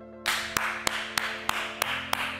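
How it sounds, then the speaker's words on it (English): Six sharp hand claps at an even, steady rhythm after a workout, each a crisp isolated snap over a low steady hum. "clap your hands."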